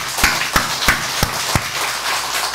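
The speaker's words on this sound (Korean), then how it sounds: "박수 올려드립니다" Inside a church, hands strike together in five sharp, evenly spaced claps, close and distinct against a quiet room before the rhythm stops.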